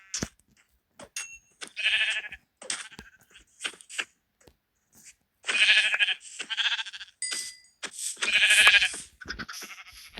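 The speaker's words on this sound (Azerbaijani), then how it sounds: "bura nə yaxşı çoxlu qoyun gəlib" Sheep bleat in the Minecraft video game, with several short, clear bleats in uneven bursts that are close and fairly loud. No voices can be heard.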